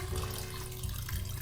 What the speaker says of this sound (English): Take some water, and we're gonna pour it